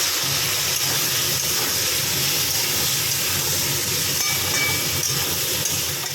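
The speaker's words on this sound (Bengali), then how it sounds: "নুন দিয়ে দেবো, হলুদ দিয়ে দেবো, দিয়ে এবার ভালো করে ভেজে নেবো" Jackfruit pieces fry in hot oil with salt and turmeric, giving a loud, unbroken hiss and sizzle that holds steady throughout.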